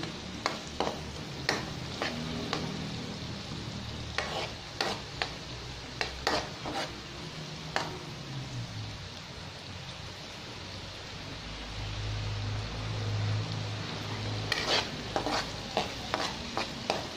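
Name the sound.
stirring tofu frying in a pan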